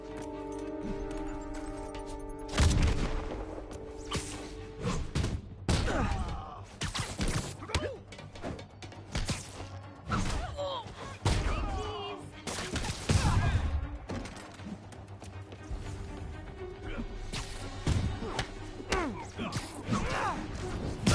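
Gunfire and clashing combat in a Spider-Man PS4 fight, sharp irregular bursts, crashes and impacts scattered throughout, with occasional voices in between.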